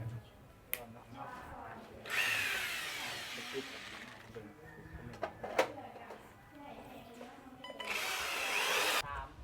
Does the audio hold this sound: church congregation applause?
no